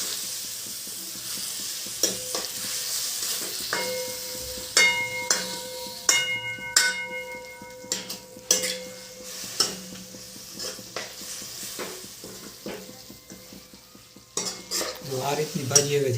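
Tandalja (amaranth) leaf bhaji frying in hot oil while a spoon stirs it, with steady close sizzling and a string of sharp metallic scrapes and clinks against the pan, growing busier toward the end.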